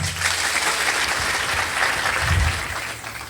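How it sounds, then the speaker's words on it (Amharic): A crowd at a religious gathering in Ethiopia claps steadily in a dense burst of applause, loud and sustained, fading slightly at the end. "አጨብጭቡ ለጌታ ክብር።"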